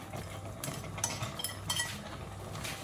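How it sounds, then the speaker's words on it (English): Spinach and ugu are stirred into a pot of ogbono soup, with a metal spoon clinking and scraping against the pot in a few irregular strokes over soft background noise. "So we turn it in, turn the spinach in."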